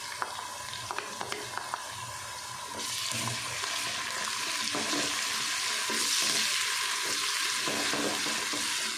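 Onions sizzling in hot oil with freshly crushed ginger and garlic for khara masala keema, a steady crackling fry that swells louder partway through as the pan is stirred, close, without talking.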